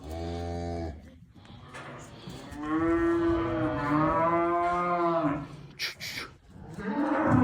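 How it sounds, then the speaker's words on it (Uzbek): A dairy cow lets out a long, loud, close moo with a rising, drawn-out tone, followed by shorter lowing sounds and breaths, with little else around. "Ana sigirimiz."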